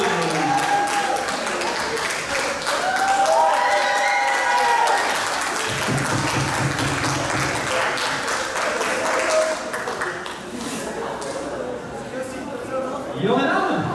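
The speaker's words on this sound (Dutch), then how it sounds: "Hartelijk applaus voor jou met een blauwe hoen." Audience applause at a youth kickboxing gala, sustained clapping from a hall crowd under an announcer's amplified voice, fading slightly toward the end.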